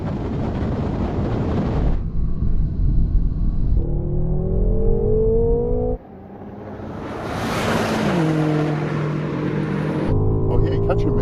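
A BMW M5 pulls hard in a drag race, its engine note rising through gears with shifts, wind buffeting the microphone and a driver talking over the loud, close roar.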